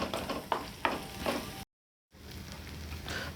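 Dry red chillies fry in oil in a pan for chutney, giving a close, steady sizzle with a few stirring scrapes, briefly cut to silence before the crackling frying resumes.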